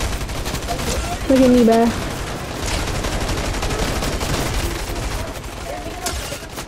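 Rapid gunfire from players in the video game Fortnite crackles steadily throughout, dense and fairly close, while a player's voice speaks briefly over it.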